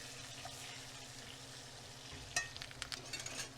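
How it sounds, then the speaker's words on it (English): Ribeye steak sizzling in a pan just after being flipped, a steady faint crackling frying hiss with a few brief spatters and stirring noises, no talking. "give our steak a flip"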